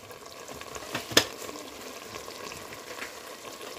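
Garam masala, cumin powder and coriander powder roast in a pan, giving a soft, steady low sizzle with one sharp utensil clink near the start.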